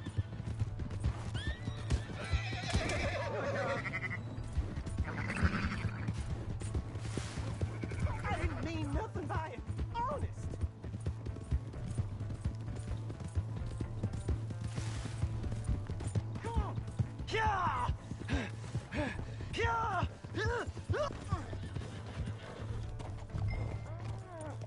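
A horse in the Red Dead Redemption II video game whinnies several times over a steady clip-clop of hooves, with game voices and ambience mixed in.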